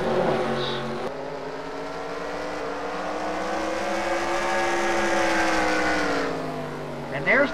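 Race cars in a heat race at Bristol, a loud sustained engine roar holding steady then fading, with a commentator talking over it.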